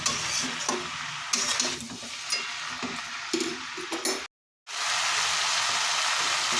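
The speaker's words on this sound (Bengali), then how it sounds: "সব কিছু এবার ভালোভাবে মিশিয়ে নিয়ে আবারও ঢাকা চাপা দিয়ে কিছুক্ষণ রান্না করে নেব" Vegetables for a Bengali chanchra with fish heads are stirred in a cooking pot over a sizzling base. Scraping and clinking strokes repeat close by, then a brief silent gap before a steady sizzle resumes.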